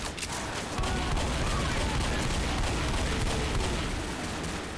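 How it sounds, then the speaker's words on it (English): Pistol gunfire in Left 4 Dead, repeated shots cracking through a dense, loud game mix of chaotic background noise, with occasional voices mixed in. "I don't know how many times I shot him with that pistol"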